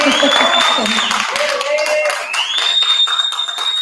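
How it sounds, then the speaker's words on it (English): A festival crowd claps at the closing session of a democracy and rights event. The clapping is loud and continuous under a tonal, whistle-like sound and some voices. "Keep on clapping."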